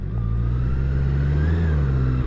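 A Honda CBR650R motorcycle engine, fitted with E-Clutch, pulls from low speed in sixth gear as a loud, steady low drone rising gently in pitch, close and continuous with no pauses.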